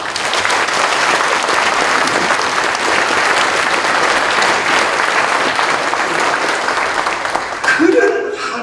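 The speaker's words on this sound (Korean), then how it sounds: "우리 하나님께 영광과 찬양의 박수 한번 합시다" A church congregation claps steadily and loudly in a sustained round of praise applause at a thanksgiving service, the dense clapping running for several seconds before cutting off abruptly near the end as a voice resumes.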